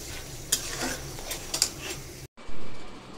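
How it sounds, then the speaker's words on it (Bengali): Spice paste for a mustard hilsa curry is stirred in a pan, with scraping utensil strokes and soft clinks over a low sizzle, then a short break before a louder burst of frying hiss. "এই মশলাটা কষাবো"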